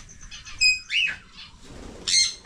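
Several loud, harsh bird calls at a farm resort in San Juan, Batangas burst out in short squawks over a low, steady background rumble, with gaps between the cries.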